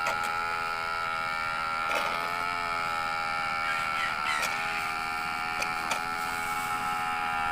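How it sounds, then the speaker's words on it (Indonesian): A simple, inexpensive manual suction machine for water gallons runs with a steady, continuous buzzing motor hum that holds an even level throughout, with a few faint clicks and no voices. "Mesin manual penyedot."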